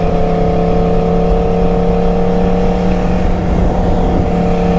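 A sport motorcycle engine with a changed air filter gives a loud, steady drone with a deep, sustained tone, holding at a constant pitch with no pauses.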